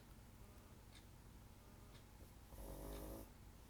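A single low, rumbling snore near the end, preceded by quiet breathing and faint ticking in a hushed room.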